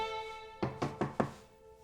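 Four quick, firm knocks on a door land in an even rhythm, close and clear against a quiet background with no talking.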